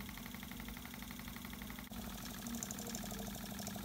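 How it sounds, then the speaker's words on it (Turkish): A small homemade Stirling engine heated by burning cologne runs with a steady, quiet mechanical ticking hum close by, with a brief knock midway and no talking. "Şimdi sizlerle gelin motorun çalışmasını izleyelim."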